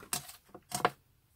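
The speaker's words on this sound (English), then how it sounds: "Just grab my scissors here" A few quick scissor snips cutting a small piece of lace for a decoupage box, close and crisp, two short bursts with a pause between.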